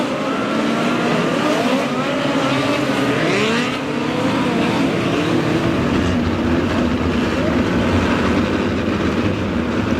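Midget race cars of the POWRi National Midget League roar around Lake Ozark Speedway on the final lap, their engines a loud, continuous, overlapping drone with rising and falling pitch as the pack passes.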